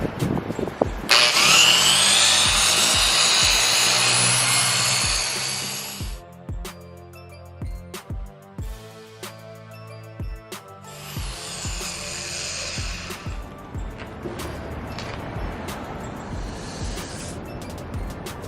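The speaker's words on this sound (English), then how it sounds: "It's a 6-speed polisher." A six-speed polisher set to speed four buffs car paint with compound, its loud whirring drone running steady for several seconds, then dropping to scattered rubbing and handling knocks before a second, shorter burst of whirring.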